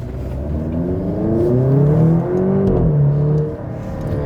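A Maserati Grecale GT SUV with 300 horsepower, driven in Sport mode, sends a strong, throaty engine note into the cabin. The engine revs climb and fall in smooth sweeps, loud and close, with no voices.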